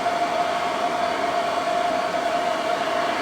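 An xTool Air Purifier VOC fan runs in a workshop, giving a steady, close whoosh of moving air with a constant tonal hum. It holds an even level throughout, with no talk.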